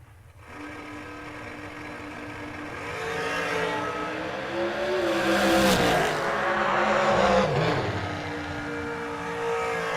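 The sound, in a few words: drag racing cars racing down the strip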